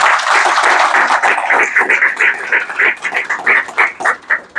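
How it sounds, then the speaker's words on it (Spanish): An audience claps for brother Víctor at a gathering in Iquitos in the Amazon: dense, loud applause that holds steady, then thins into separate rhythmic claps toward the end. "Un fuerte aplauso por su labor, el hermano Víctor."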